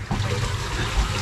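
Water pouring and gushing steadily during a repair job, a short, loud, close splash of liquid with no talk over it.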